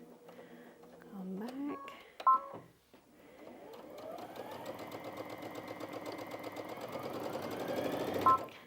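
Brother Innov-is VQ2 computerized sewing machine stitching fabric at a slowed pace, a rapid even needle chatter building steadily in level, with short beeps and a quiet voice before it starts.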